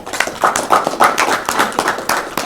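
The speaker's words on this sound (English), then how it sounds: "a big round of applause for Preeti" A small audience at a press meet for Preeti Jhangiani's appointment as women's commission chairperson claps in a brief round. Individual hand claps sound close and distinct in an irregular rhythm rather than as a dense roar.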